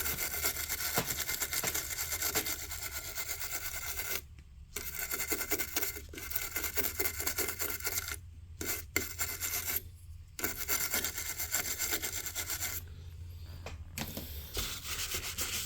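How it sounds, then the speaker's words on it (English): A brush scrubbing a Leslie 147 amplifier chassis after cleaner is sprayed on, repeated close scratchy rubbing strokes in bursts with brief pauses between them. "take my brush, just to rub that a little bit there."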